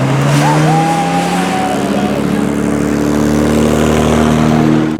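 Car engine at a dyno testing day, held at a steady roar through a burnout with a brief rising rev early on, loud and continuous from start to finish.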